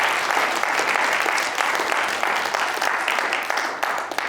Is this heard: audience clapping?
yes